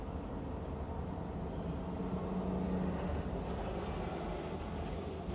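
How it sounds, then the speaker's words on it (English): Dense rush-hour traffic rumbles continuously close by, a broad steady roar of trucks and cars with a long hissing truck air brake release rising over it, no voices. "it's rush hour traffic right now, as you can tell by all the traffic going every direction possible"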